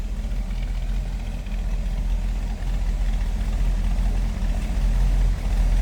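A 1964 Chevrolet Impala SS two-door hardtop's V8 idles steadily with a deep, low rumble from the rear, even and continuous with no talk over it.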